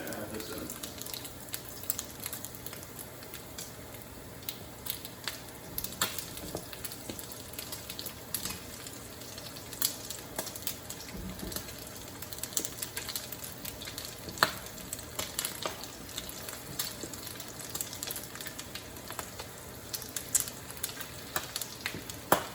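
Potatoes and onions sizzle and fry with beef in a skillet over medium heat, a steady soft crackle with occasional stirring clatter throughout.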